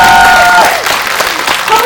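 Audience applause at a cinema screening talk event in Seoul, a short burst of clapping and crowd noise fading after an opening tone, with faint voices underneath.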